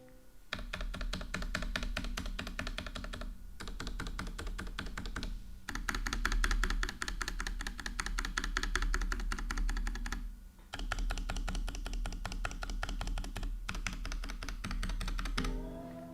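Fast continuous clacking from a low-profile mechanical keyboard, close and crisp, with key presses in rapid bursts and short pauses between runs.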